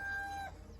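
A chicken's call rings out for about half a second, then gives way to quieter barnyard background noise.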